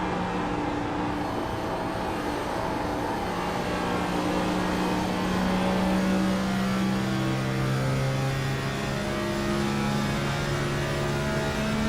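Onboard a number 15 race car lapping Pocono, a steady, droning engine note holds at high revs with a constant hum and slight pitch shifts, close and unbroken with no talk.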